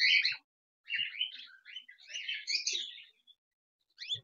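Pet budgerigars nibbling on tulsi leaves chirp in quick, high, warbling bursts, close by, with short pauses between the chatter.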